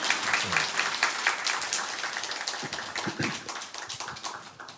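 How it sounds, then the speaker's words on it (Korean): A church congregation applauds continuously, dense clapping that starts strong and gradually thins and softens toward the end, with no talking over it. "박수 한 번 보내주십시오"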